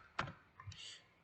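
A Delete key pressed on a computer keyboard, heard as one faint, close click followed by a softer clack in a quiet room with no talking.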